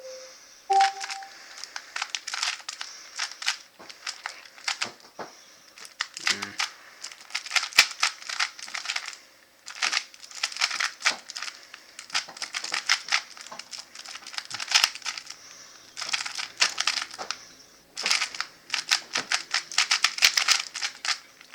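A Go Cube smart puzzle cube being twisted, quick clusters of plastic clicking and clacking turns in bursts with short pauses, close by, with a few electronic beeps early on.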